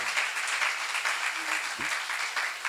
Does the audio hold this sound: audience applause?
yes